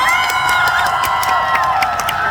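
A concert crowd of fans claps and cheers for a fan club at an outdoor geopark certification concert in Uiseong, with loud, steady, dense applause and shouts mixed with sustained tones from the stage.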